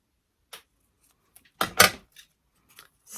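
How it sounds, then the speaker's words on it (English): Scissors trim crepe paper for a handmade paper flower, giving a few sparse, crisp snips close to the microphone. One snip is louder and longer than the rest, with quiet gaps in between. "And we'll just trim this down a little bit."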